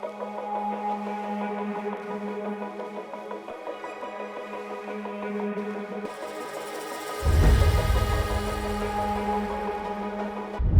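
Layered synth atmospheres for a dancefloor drum and bass track, with sustained pads and tonal drones that swell into a louder, fuller section with heavy low end partway through, playing alone without voices.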